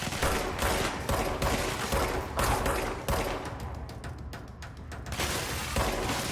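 Rapid gunfire and shattering impacts in the action game Control, loud and sustained through most of the stretch, easing briefly before a fresh burst.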